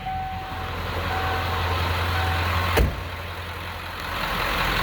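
A 1996 Ford F250 XLT Supercab with its 7.3-liter Powerstroke diesel idles close by, a steady low rumble with one brief sharp knock partway through.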